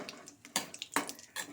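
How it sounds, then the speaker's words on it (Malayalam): Cashew nuts stirred in a pan of hot ghee, giving a few quick, close scraping and clattering bursts of spoon against metal, with soft sizzly noise between the strokes. "അതിൽ അണ്ടിപ്പരിപ്പ് ഇട്ടൊന്ന് വറുത്ത് കോരാം"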